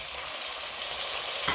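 Spices fry in a pan with a steady hiss and crackle, and near the end a burst of louder sizzling marks boiled beef being added for pilau, with no talking.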